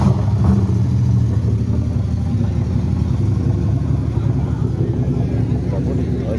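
Chevrolet C10 pickup with a V8 engine at a classic car meet in Brasília, a loud, close, rumbling idle with a brief rev near the start, heard over crowd talk.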